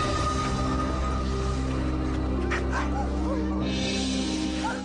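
Sled dogs in Greenland bark and whimper, with high yips and whines rising over a steady low droning hum.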